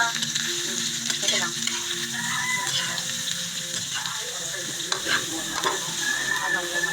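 Bitter gourd (ampalaya) stir-fries in a hot pan, giving a loud, steady sizzle broken by scraping stirs, while a voice speaks briefly over it.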